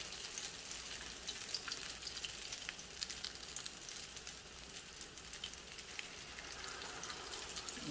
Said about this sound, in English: it looks like it's frying too fast